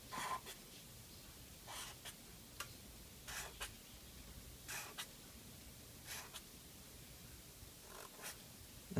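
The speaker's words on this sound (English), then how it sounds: "I'm going to actually draw like the flares of his head." Pencil or pen drawing on paper for a cute Halloween Beetlejuice sketch, soft scratchy strokes coming in short separate bursts, faint and close with no talking.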